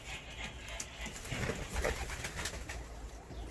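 Fancy pigeons in their coops coo softly amid a busy, noisy background, their low murmuring calls blending with steady ambient din.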